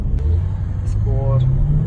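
BMW car accelerating hard on an autocross mini-track, a low engine rumble that builds steadily across two seconds, with people talking over it inside the car.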